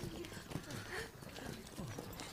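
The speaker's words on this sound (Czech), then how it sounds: "To je princezním kůň." Horse hooves clip-clop through a fairy-tale scene, a steady run of soft thuds under a busy, noisy background.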